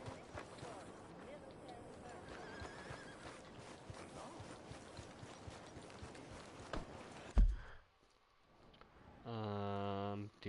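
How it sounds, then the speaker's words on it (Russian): Horse hooves clip-clop steadily in Red Dead Redemption 2, a continuous run of hoofbeats over ambient game sound that drops out suddenly, followed by a brief tonal sound near the end. "Стоп, лошадь там."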